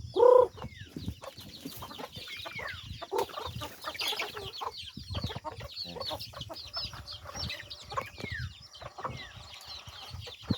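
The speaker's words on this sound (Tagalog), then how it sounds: "tawagin natin yung ating mga manok" Chickens cluck and murmur softly at a distance in a rural farmyard during morning feeding, scattered calls over quiet outdoor background, with a brief loud knock at the start.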